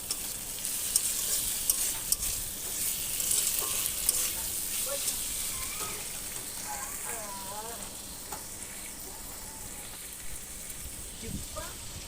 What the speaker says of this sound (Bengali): টমেটোগুলো ভাজা ভাজা হয়ে আসলে ওতে নুন, লঙ্কা গুঁড়ো, হলুদ গুঁড়ো সব একসাথে দিয়ে কষিয়ে নেব